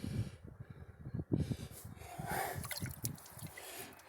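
Water draining and dripping from an engine block during a head gasket change, irregular gurgling splashes and drips up close, with some sniffing and breathing sounds mixed in.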